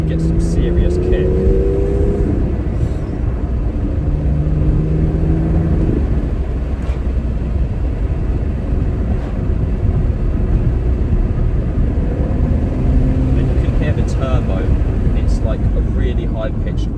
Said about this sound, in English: High-pitched whine.